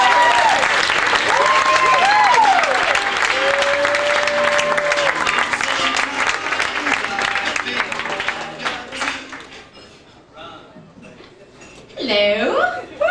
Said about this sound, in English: Please put your hands together for Cecily Nobler.